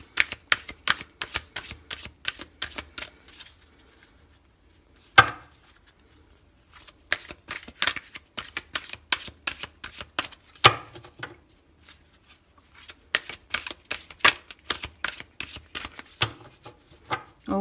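A deck of tarot cards being shuffled by hand, heard as close, rapid bursts of crisp clicking and riffling with brief pauses between rounds and no talking.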